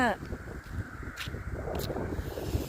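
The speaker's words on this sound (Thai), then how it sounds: "มันลม จัง เลยบัดนี้อ่ะ" Strong gusty wind blowing outdoors during a walk on a dry day, a steady broadband roar with buffeting close to the microphone and a faint bird call at the start, continuous throughout the clip.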